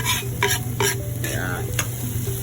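Garlic and onion sautéing in a pan as aromatics for corned beef pochero, a bright sizzle broken by several quick stirring scrapes of a utensil, close and with no talk.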